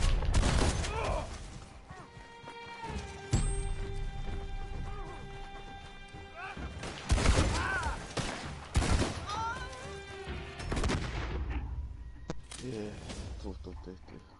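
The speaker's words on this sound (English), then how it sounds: "someone's shooting" Gunfire in the online game Red Dead Redemption 2 Online, scattered sharp shots and bursts heard at moderate distance under a voice talking.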